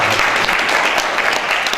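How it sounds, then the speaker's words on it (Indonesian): A brief burst of dense clapping from a crowd at a religious commemoration gathering, steady and fairly loud throughout, with faint voices mixed in. "Tepuk tangan semuanya."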